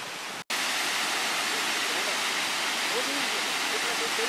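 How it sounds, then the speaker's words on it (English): Water pours over a highway like a waterfall after a landslide, a dense, steady roar that fills the whole stretch without a break apart from one instant dropout near the start. "This is a part of the highway which looks like a waterfall right now."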